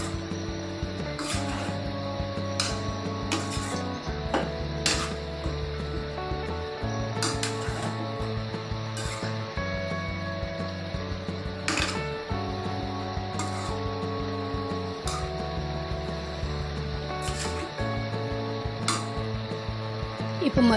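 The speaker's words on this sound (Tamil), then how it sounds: "இப்போ நம்ம அரைச்சி எடுத்து வச்சுருக்க இந்த தேங்காய் விழுது இதில் சேர்த்துக்கலாம். சேர்த்துட்டு நல்லா கலந்து விட்டுருங்க." Spoon scraping and stirring coconut paste into a mixed vegetable avial curry in a kadai, soft repeated clinks and scrapes at a steady rhythm over low background music.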